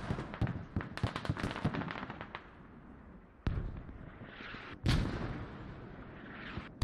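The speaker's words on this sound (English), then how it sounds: "Mortars doing a great job." Mortar fire in the military shooter game Squad on the map Mutaha: repeated sharp distant booms and cracks, a dense cluster early, then several heavy isolated blasts, without speech.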